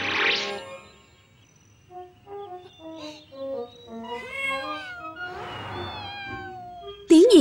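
Cartoon kitten meowing several times in a series of short, high mews, mixed with light background music and brief cartoon voices; a loud squeaky cry at the end.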